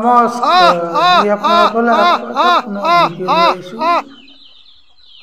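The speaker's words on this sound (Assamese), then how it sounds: "এয়া দেখিবলৈ পাইছে মোৰ মুৰ্গীখিনি" Local farm chickens cluck and squawk in a quick series of close, loud calls for about four seconds, then fade to near quiet; a voice briefly speaks a greeting among them.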